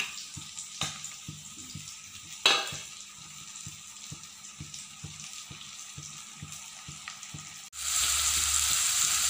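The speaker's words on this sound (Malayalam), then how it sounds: "ഇനി നമ്മൾക്ക് ഈ വെളിച്ചെണ്ണ ചൂടാകുമ്പോൾ ഈ ചേരുവകളെല്ലാം ഇതിലേക്ക് ഇട്ട് കൊടുത്തിട്ട് നല്ലപോലെ ഒന്ന് വഴറ്റിയത്." Chopped ingredients sauté in hot coconut oil for a sardine curry, a steady close sizzle punctuated by regular scraping strokes of a spoon, ending in a louder, fuller hiss as more goes into the pan.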